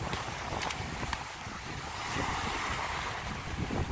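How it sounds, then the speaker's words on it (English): Waves roll in on Samana Bay along a coral-rock shoreline in the Dominican Republic, a steady broadband wash with wind buffeting the microphone, swelling slightly midway and continuing without any talk. "that's why we got this the waves coming in"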